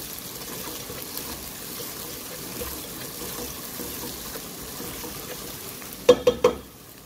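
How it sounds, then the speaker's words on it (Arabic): Onions, ginger and garlic fry in a pot for an Indian mutton and moringa curry, giving a steady low sizzle. Near the end, a quick run of three sharp spoon knocks rings against the pot. "نضيف الزنجبيل والثوم ونحرك تقريبا دقيقة إلى دقيقتين"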